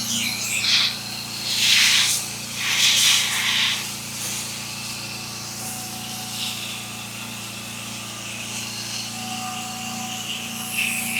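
Soft wash sprayer rinsing vegetation and a house on a cold morning, a steady hiss of water spray with several louder surging bursts early on over a constant low engine drone.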